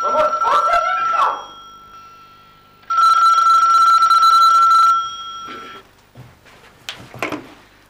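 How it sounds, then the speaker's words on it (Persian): A telephone bell rings in a comedy film scene, a loud close trill in bursts, with people talking briefly before and after it and some movement noises. "تلفن من میرم خودم جواب میدم"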